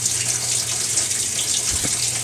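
Water pours steadily into a washing machine filling for a deep rinse while washing light-colored clothes, a constant hiss close by, with a low hum and a brief thump near the end.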